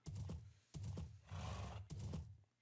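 A horse in the Minecraft video game gives three short, quiet neighs in succession, each a brief snorting whinny, with a breathy rustle between the second and third.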